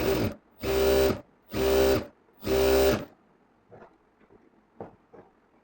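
A sewing machine stitches a round dress in four loud, even bursts of motor whir, each under a second, followed by soft handling noises of the fabric.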